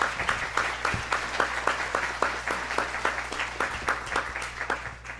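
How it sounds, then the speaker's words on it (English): An audience claps at an awards ceremony, steady applause with distinct individual claps in a fairly even rhythm, moderately loud and continuous with a low hum beneath. "Please give them a big round of applause"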